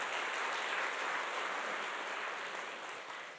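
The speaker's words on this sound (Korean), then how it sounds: "이 소식 들으시면 박수 한번 쳐주셔야 됩니다" An audience claps together at a corporate seminar, a soft, steady wash of many hands heard at a distance that slowly fades toward the end.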